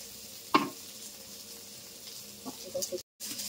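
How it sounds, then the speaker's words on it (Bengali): Potatoes fry in hot oil with turmeric, giving a steady, even sizzle broken by a couple of sharp utensil clinks and a brief dropout near the end. "ভেজে নেব। গরম হয়ে গেছে, এবার তেল আলু দিয়ে দিলাম।"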